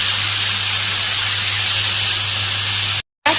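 Ingredients for a puti fish dish dropped into hot oil set off a loud, steady, close-up sizzle that holds evenly for about three seconds before cutting out abruptly.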